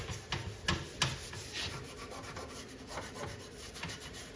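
Abrasive scuffing on the metal coin door of a Satan's Hollow arcade cabinet being prepped for paint: steady, close rubbing strokes with a few sharper scrapes early on.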